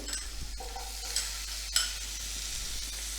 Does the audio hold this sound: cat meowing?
no